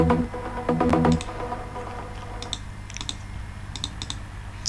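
Second oscillator of a detuned trance pluck patch in the Spire synth, playing a short burst of plucked notes for about a second, then fading out as soft computer keyboard and mouse clicks take over.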